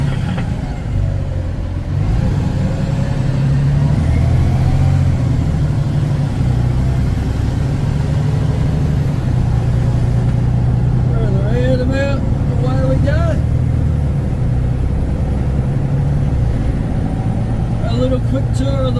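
A T360 concrete mixer truck cruises along a highway, its engine drone and tyre roar heavy and steady throughout, with faint shifts in engine pitch as it runs at speed.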